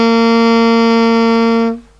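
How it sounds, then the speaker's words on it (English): Saxophone playing a single sustained note with a relaxed, full, open tone. It is rich in harmonics, holds steady for nearly two seconds close and clear, then stops cleanly. "You want a nice full open sound like this."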